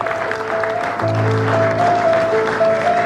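Studio audience applause at an Indonesian comedy show's hypnosis segment, a steady wash of clapping throughout with low sustained background tones underneath.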